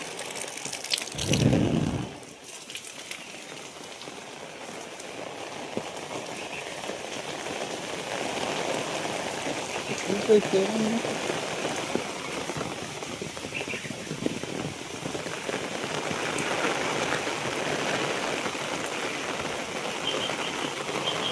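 Steady, dense rain pours down continuously on farmland, a loud broadband hiss with a brief thump near the start.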